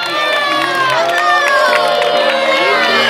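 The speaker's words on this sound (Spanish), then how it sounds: "Fuerte aplauso para él." At a school sports medal ceremony, a crowd of children cheers and shouts loudly, with voices and whoops over a dense, steady roar.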